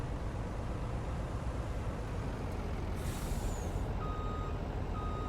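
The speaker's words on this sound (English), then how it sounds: "I might want to back it in because the belt system may need to be moved back just a little bit further" A truck in Farming Simulator 19 backs up on a farm to load silage. Its engine drones steadily while faint, evenly spaced reversing beeps sound over it, and a brief hiss of air breaks in midway.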